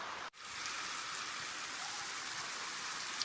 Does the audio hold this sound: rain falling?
yes